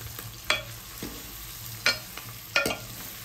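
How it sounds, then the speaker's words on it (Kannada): Bitter gourd frying in oil and being stirred, with three sharp scraping strokes of a spoon against the pan over a quiet steady sizzle, no voices. "ಈಗ ಹಾಗಲಕಾಯಿ ಹಾಕ್ಕೊಂಡು ಚೆನ್ನಾಗಿ ಮಿಕ್ಸ್ ಮಾಡ್ಕೊಬೇಕು"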